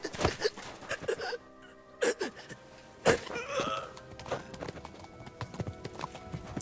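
A horse in the video game Kingdom Come Deliverance 2 clip-clops along in uneven bursts of hoofbeats at moderate distance, with a snort or whinny partway through and sharp impact sounds.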